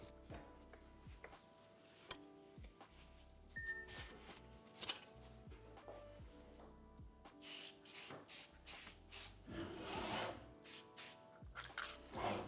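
Short hissing bursts of lubricant spray aimed at the sliding mechanism of a miter saw, several quick sprays in a row near the end after quieter clicks and handling sounds, close up with no talking.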